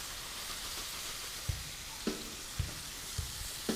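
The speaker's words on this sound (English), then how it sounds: "we have heating up over here another pan where I'm going to throw everything on" Pork loin and meat juices sizzle in a hot pan with a steady, dense hiss, broken by about five sharp clunks of utensils or food being moved about.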